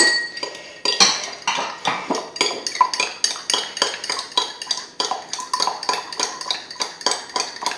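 A spoon stirs lemon juice and olive oil in a dish, clinking steadily against the sides in a quick repeated rhythm, close and fairly loud with no talking.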